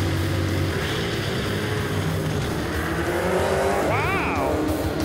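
A 1979 Ford Fairmont spinning out during a race, with a continuous loud engine roar and a sharp rising-and-falling tire squeal near the end, under excited talk.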